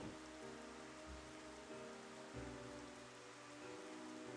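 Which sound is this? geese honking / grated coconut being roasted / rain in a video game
rain in a video game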